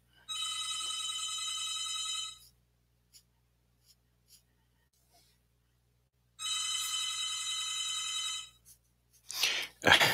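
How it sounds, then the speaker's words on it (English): Telephone ringing in a quiet room: two long electronic ring bursts of about two seconds each, separated by a few seconds of silence with faint ticks, then a short noisy rustle at the end. "there goes my phone"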